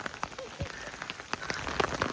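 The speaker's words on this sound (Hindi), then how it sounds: "बारीक बारीक ओले पड़ रहे हैं, ओलावृष्टि हो रही है" Fine hail falls on surfaces outdoors in cold mountain weather, a dense patter of small irregular ticks and taps close by, with no voices.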